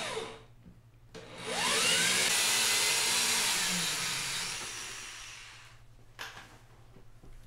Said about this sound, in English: So I'm taking out the screws for the stationary panel.